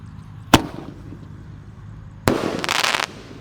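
A Raja Wali Jumbo firework lit and launched outdoors, a sharp single bang followed after a pause by a loud hissing, crackling burst lasting under a second, fairly close with no talk.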